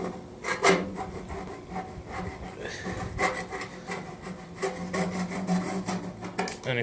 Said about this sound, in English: You go ahead and you scrape it off, wiggling.